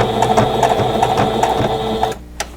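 A sewing machine stitches across quilt block seams for a sailboat stash-buster block, a steady close whirring hum with rapid needle pulses that stops abruptly near the end.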